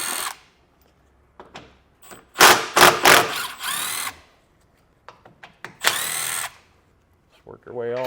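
Power drill running in several short, loud bursts while removing 10mm head bolts from the underbody panel of a 2018 Jeep Cherokee, with brief pauses between bursts and a moment of speech near the end.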